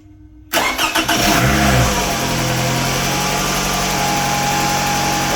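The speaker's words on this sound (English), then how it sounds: "I'm going to start the car." A Toyota car engine cranks briefly and catches after a fusible link replacement, then settles into a steady running hum, close and loud with no talk.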